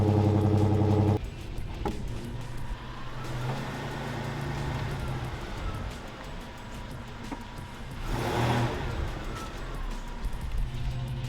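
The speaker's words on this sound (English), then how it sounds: "Alright, I guess let's drive it" Toyota 4Runner with a brake fluid leak driven on a road test, steady engine and road noise from inside the cabin after a loud start, with a brief swell of engine effort near the end.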